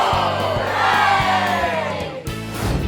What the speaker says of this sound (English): the whole family clapped and cheered